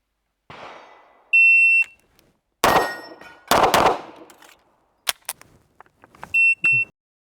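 Gunshots ring out at a shooting range during practice on moving swinger targets, several loud sharp reports spaced apart, mixed with metallic clangs of hits and electronic timer beeps.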